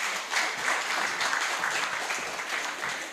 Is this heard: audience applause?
yes